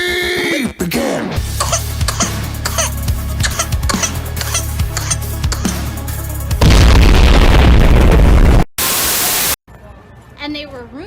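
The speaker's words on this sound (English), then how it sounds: "Hydrogen bomb versus coughing" A meme-style edit pitting a coughing baby against a hydrogen bomb: busy voices and rhythmic sounds give way to a loud roaring blast of noise, a sharp cutoff, another burst, then quiet.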